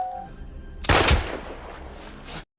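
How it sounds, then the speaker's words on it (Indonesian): A loud gunshot bursts out from a film scene where an SS soldier shoots a cow, following a brief tonal sound, with a crackling, rumbling tail fading over about a second and a half before cutting off. "SS kemudian menembak sapinya Paul."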